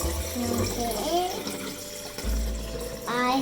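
Water poured into a container while making a homemade lava lamp, a sloshing, splashing pour running under a speaking voice.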